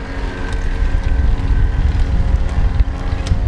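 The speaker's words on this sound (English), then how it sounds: "I can hear the motor struggling a little bit" Electra Loft Go electric bike motor straining while climbing a steep hill in gear 2, a steady close whine and hum mixed with heavy wind rumble, no talking.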